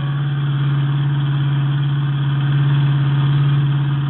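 A car engine drones steadily in a low, continuous hum throughout a police chase, close and even in level with slight swells, alone without speech.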